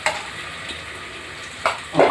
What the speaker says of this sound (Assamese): এয়া চিকেন দি ভাজিম